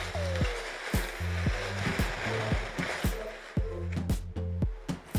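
Mushrooms sizzle steadily as they cook down in a pan for cream of mushroom soup, a continuous close frying crackle with scattered sharp clicks and knocks over a low repeating hum.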